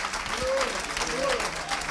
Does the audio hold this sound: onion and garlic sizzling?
no